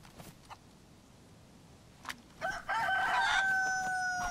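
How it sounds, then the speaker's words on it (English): A rooster in the video game DayZ crows once, loud and close, in a long harmonic cock-a-doodle-doo that follows a few scattered clicks and thumps. "Cock-a-doodle-doo to you too."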